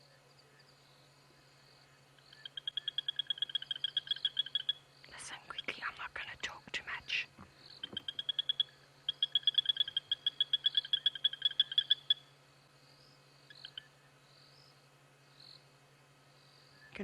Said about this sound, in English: this is a Tandy's frog, a Tandy sand frog